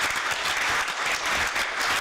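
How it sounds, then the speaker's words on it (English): Steady applause from the audience at an ACERWC ordinary session, giving the panelists one more round; dense, even clapping fills the room with no voices over it. "let's give the panelists one more round of applause"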